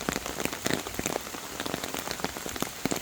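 Rain falls steadily on the ground and nearby surfaces during an outdoor walk with dogs, a dense close patter of drops with no talking.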